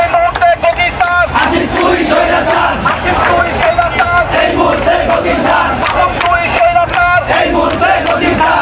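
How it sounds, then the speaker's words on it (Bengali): A large crowd at a political protest chants a slogan in loud, rhythmic unison, the repeated shouted phrases pulsing steadily throughout. "আরেকটা স্লোগান একটু শোনাই"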